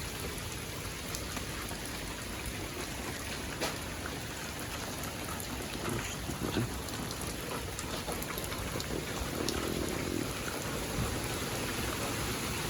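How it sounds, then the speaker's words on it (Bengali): Steady heavy rain pours down over a village, a dense continuous hiss of drops hitting surfaces and foliage with no voices, holding an even level throughout. "আজকে রাত থেকে এখন পর্যন্ত বৃষ্টি অব্যাহত চলছে।"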